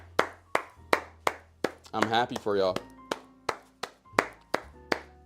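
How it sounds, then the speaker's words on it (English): Sharp, evenly spaced hand claps ring out close and loud, about a dozen in steady rhythm, pausing briefly while someone speaks and then resuming. "Clap it up for yourself."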